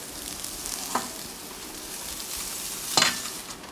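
Cooked-down Swiss chard and an egg mixture in a pan, a low steady frying hiss with two sharp utensil clinks about two seconds apart, the second louder.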